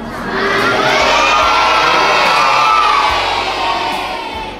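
A large crowd of children at a school gathering shouts and cheers loudly all at once, a sustained roar of voices that swells and then eases off.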